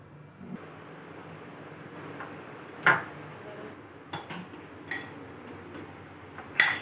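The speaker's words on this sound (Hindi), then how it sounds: "तो सबसे पहले हम अंडे को अच्छी तरह से कांटे की मदद से मैश कर लेंगे।" A fork mashes boiled eggs in a bowl, giving a few sharp metallic taps and scrapes at irregular intervals over a quiet room background.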